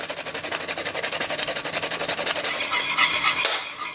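Béchamel base for croquetas stirred in a pan with rapid rhythmic strokes, a fast regular scraping pulse for nearly three seconds that shifts into a looser, brighter swirling before easing off; close and clear, no voices.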